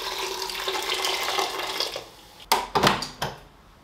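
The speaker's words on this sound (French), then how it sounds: "Et j'ajoute 800 centilitres d'eau bouillante." Boiling water, about 800 cl, is poured over washed quinoa in a cooking robot. A steady close pour runs for two seconds and is followed by a few short metallic clatters and splashes.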